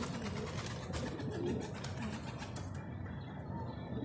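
Domesticated pigeons take off and flap their wings outdoors during a homing training session, a steady broadband fluttering rush across the whole clip with no voices.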